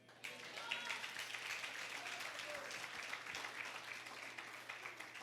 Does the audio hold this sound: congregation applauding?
yes